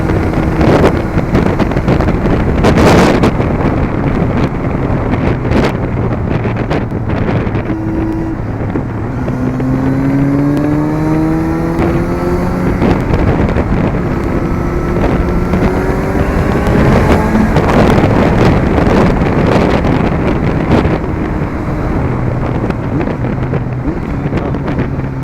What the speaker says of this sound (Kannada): ನೋಡಿ, ಇದು ರೆವ್ ಮ್ಯಾಚಿಂಗು